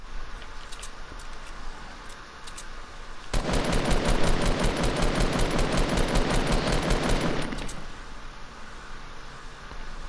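Rapid automatic gunfire in a Fortnite battle royale duo match, a dense burst of fast repeated shots lasting several seconds, loud and close, with single sharp shots and game ambience before and after.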